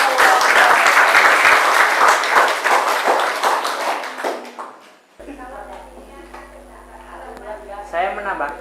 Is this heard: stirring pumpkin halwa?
no